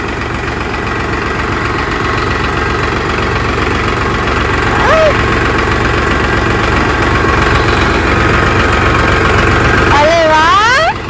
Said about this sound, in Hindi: अब तो असली वाला ट्रैक्टर चाहिए लड़के को। वो सच में चला रहा है ये तो